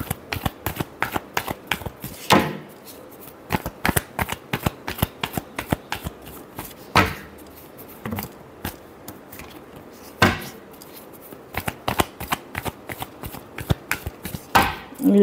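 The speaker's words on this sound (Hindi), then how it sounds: "Last shuffle." A deck of tarot cards is shuffled up close, giving rapid clustered riffles and sharp taps in a steady rhythm, repeated in bursts with brief pauses between.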